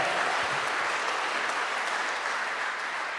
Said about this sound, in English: Big round of applause from all.